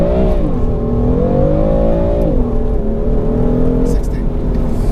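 A car launches from 3,000 RPM under launch control and accelerates, the engine's loud, close drone holding steady and then shifting pitch, with a voice faintly underneath.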